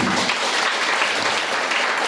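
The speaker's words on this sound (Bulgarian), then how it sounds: "Аплодисментите за учителя Виктор Христов." Audience clapping for a teacher at a Bulgarian folklore day event and student exhibition, a dense even wash of applause that holds steady for the whole moment.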